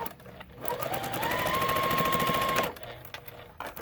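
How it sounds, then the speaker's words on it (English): Sewing machine stitching a quarter-inch seam on a quilt block, a steady mechanical whir with rapid needle rhythm running for about two seconds, starting and stopping cleanly, fairly quiet. "I'm going to stitch it down."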